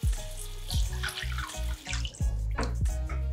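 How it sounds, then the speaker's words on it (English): Tap water gushes into a big pot holding salt cod and milk, a loud, close splashing pour with gurgling, bubbling churn, briefly interrupted and resumed in several short bursts. "Fill the rest up with water, just get it above there."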